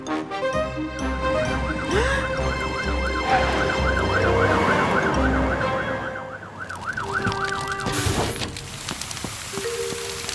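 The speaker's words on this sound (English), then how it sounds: "They're brumming too loud to hear Fiona's siren." Cartoon fire truck siren wailing in a steady up-and-down cycle over rumbling engine noise, loud and continuous, then cutting off.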